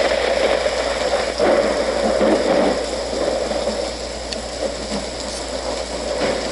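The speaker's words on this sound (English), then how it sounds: "Let's do thunder." A Homedics sound machine plays its thunder setting: a steady broadband rain-like wash with soft low rumbles, continuous and fairly loud, with no voices.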